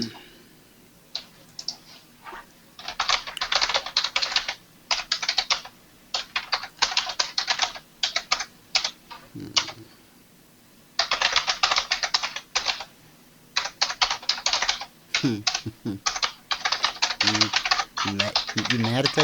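Rapid, forceful typing on a computer keyboard comes in uneven bursts of clattering keystrokes separated by short pauses. It is close and fairly loud, and a voice briefly murmurs in the background near the end.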